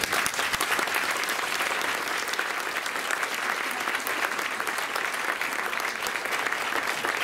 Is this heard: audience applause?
yes